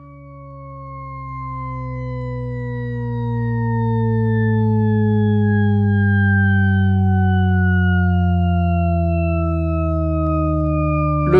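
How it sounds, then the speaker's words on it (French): A synthesized endlessly descending siren tone, an auditory illusion by Jean-Claude Risset, with stacked harmonics glides steadily downward, smooth and loud, swelling slightly in volume before cutting off. "L'ordinateur permet d'imaginer d'étranges sirènes."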